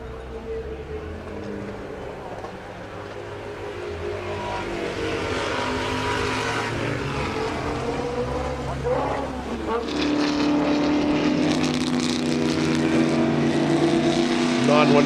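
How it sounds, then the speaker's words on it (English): A Porsche race car at the 2024 Passion for Speed event runs through pit lane with a loud, continuous engine drone that rises toward the end, heard under ongoing race commentary. "Porsche comes into pit lane and back out again."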